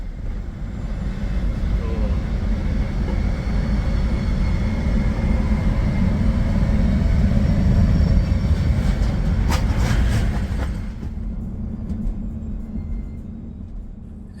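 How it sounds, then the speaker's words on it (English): MAX light rail trains cross Portland's Steel Bridge with a broad, steady rumble that swells and then fades over several seconds, heard alone without talk. "And there's some MAX trains going right now."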